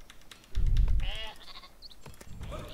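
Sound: sheep bleating in the video game Northgard

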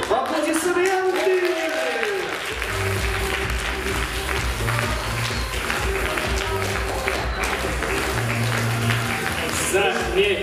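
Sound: audience applause at a show

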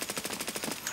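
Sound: AKM rifle gunfire in video game Escape From Tarkov

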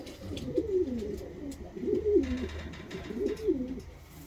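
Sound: pigeons cooing, Egyptian-lineage birds

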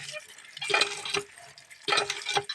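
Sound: potatoes being washed in water

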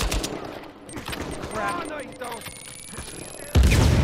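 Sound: gunfire shooting at the player in the video game Uncharted 4

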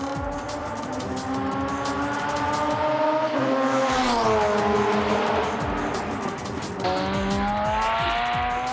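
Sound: tuned race car lapping a Japanese circuit

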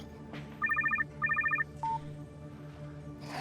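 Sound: telephone ringing

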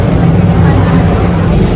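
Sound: boat engine running on a Venice canal

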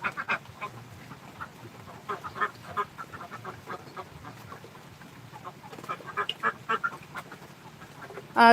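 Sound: ducks quacking in a shed

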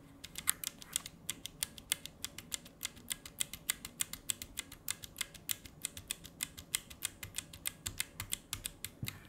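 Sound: mechanical keyboard with Red switches typing, no keycaps

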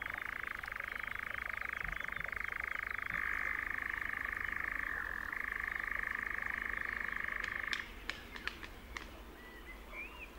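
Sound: nightjars' strange trilling song at dusk

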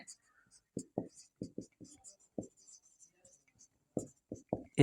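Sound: pen writing on a board

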